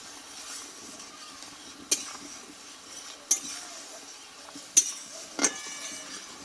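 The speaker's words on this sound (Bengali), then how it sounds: "এইভাবে অনবরত কিন্তু খুন্তির সাহায্যে নেড়ে নিতে হবে" A spatula stirs thick sugar syrup in a pan for puffed-rice sweets, with four sharp metallic scrapes and clinks spaced a second or so apart over a faint low bubbling background.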